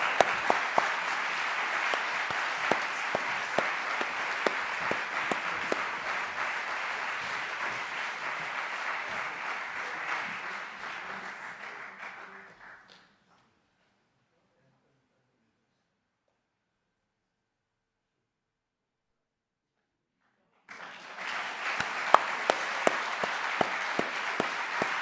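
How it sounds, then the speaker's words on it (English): An audience claps for Arnaud Fontanet at a Louis Pasteur bicentenary science prize ceremony, steady sustained applause that stops abruptly, falls silent for several seconds, then resumes. "we can go for a big round of applause for Arnaud"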